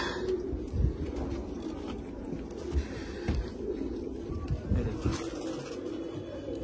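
Pigeon pairs cooing in a loft of Andhra pigeons in Kolkata, low soft coos rising and falling continuously over a steady murmur of the flock, with a few louder bursts close by.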